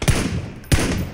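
Two loud gunshots ring out in the PUBG (Battlegrounds) video game, close and punchy, with reverberation trailing between the shots.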